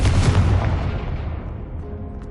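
A Confringo fire spell from a Harry Potter video game detonates in a loud, deep boom that rumbles and fades over about two seconds.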